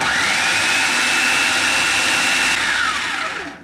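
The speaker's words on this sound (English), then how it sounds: "And we're gonna grind these up." A blender grinds peeled tomatoes with a steady, loud high whir for about three seconds, then winds down as it is switched off, with no talking.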